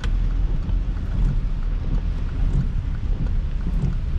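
Steady, heavy rain drums on the roof and glass of a 2013 Mercedes-Benz ML500 with a 4.7L engine, a dense, continuous wash with low rumbling underneath and no voices.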